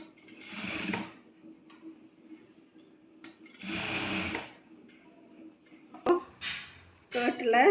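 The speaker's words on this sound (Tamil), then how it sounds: "இப்போ வந்து நம்ம ஓவர்லாக் போட்டுக்கலாம்." An overlock sewing machine runs in two short, steady bursts as it stitches a skirt to the bodice of a maxi top, with quieter handling clatter between the runs and at the end.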